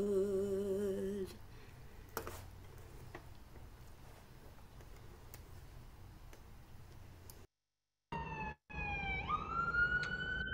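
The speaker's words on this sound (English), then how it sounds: "the sirens of New York City" Wailing emergency sirens in New York City rise and fall over steady city traffic rumble, with a brief dropout before a siren sweeps upward again.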